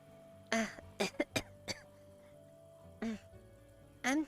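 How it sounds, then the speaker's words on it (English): Several short coughs or throat-clearing bursts from a person, in a quick cluster then two more separated by pauses, fairly close and moderately loud over a quiet background hum. "That cough does not sound very good"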